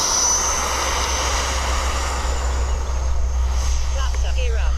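A radio-controlled model plane, heavily loaded, drones steadily while flying a series of touch-and-go landings, a constant engine whine with broadband rushing noise, fairly loud and unbroken throughout.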